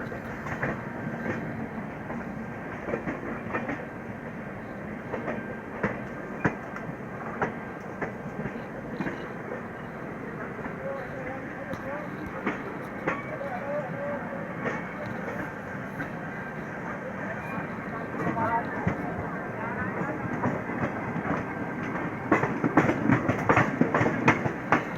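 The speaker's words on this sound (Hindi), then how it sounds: "और ये हरिद्वार से दिल्ली की चलने वाली पैसेंजर ट्रेन है, जिसके साथ हमारा पैरेलल रन हो रहा है।" A Haridwar–Delhi passenger train runs alongside a moving Humsafar Express, heard from on board. The rumble is continuous under steady wheel clickety-clack, with clattering growing louder near the end.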